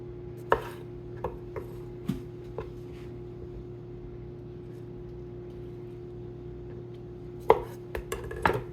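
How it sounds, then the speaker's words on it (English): A knife chops vegetables into small cubes on a cutting board, sharp scattered knocks near the start and a quick burst toward the end, over a steady low background hum. "Now I'm just gonna chop these into little cubes"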